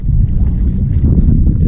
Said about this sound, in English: The wind is blowing a little much.